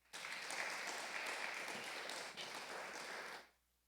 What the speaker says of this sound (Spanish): Dele fuerte el aplauso a aquel que vive.